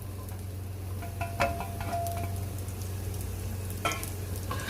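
Chopped garlic and ginger fry in hot oil in a pan, a steady close sizzle with a few light scrapes and clicks of stirring.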